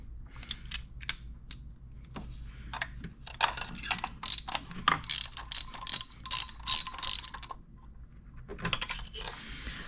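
A ratchet tightens a spark plug on a BMW 128i with the N52 engine, giving bursts of rapid, close clicking that start and stop in short strokes, with no talking.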